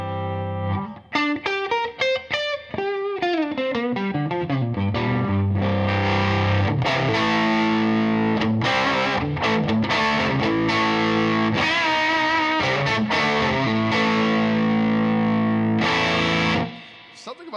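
Distorted electric guitar through a low-wattage Orange amp in a live room, played loud and alone with ringing sustained chords and quick note runs, cutting off abruptly near the end.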